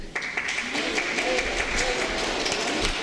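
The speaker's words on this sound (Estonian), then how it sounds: "Teeme aplausi kõigile." A church congregation at a worship service applauds, a dense steady patter of clapping sustained for several seconds, with voices faintly mixed in.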